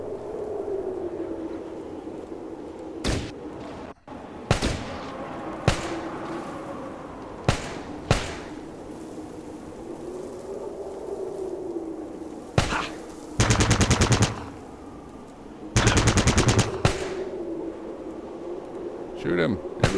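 Bursts of gunfire from the video game Fallout Tactics crack out at intervals: single shots, then two longer rattling automatic volleys, with someone talking over the game throughout.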